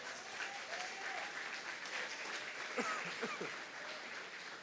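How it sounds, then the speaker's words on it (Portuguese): A church congregation applauds steadily throughout, a dense wash of clapping at moderate volume with no pauses. "Aplausos ao Senhor."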